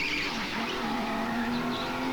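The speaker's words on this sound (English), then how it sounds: "A little engine noise there that suggesting that apex could have done better." Go-kart engine droning steadily during a Supercharged SuperLeague race at Edison, a sustained close hum with a faint higher whine and no talk.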